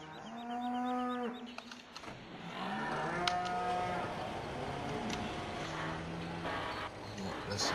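Cattle mooing in the Farming Simulator 2015 video game, several long lowing calls one after another over steady in-game machinery and ambient noise, fairly loud and close.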